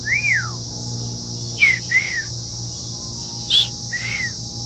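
A parrot at a zoo gives several loud, close whistled squawks and rising-falling calls in short bursts, spaced across the clip over a faint steady background hum.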